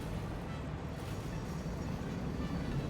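Steady low rumbling drone of a train idling at a station in the factory-building game Satisfactory, continuous and fairly quiet with no talking.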